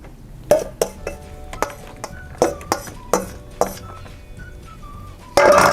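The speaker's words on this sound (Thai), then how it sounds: "แล้วก็ยำให้มันเข้ากันเลยครับ แล้วก็เทใส่ถ้วยเลยครับ" Spicy oyster salad tossed with utensils in a metal or glass bowl, then poured into a serving bowl: a series of sharp clinks and scrapes at irregular intervals, ending in a brief louder pouring rush.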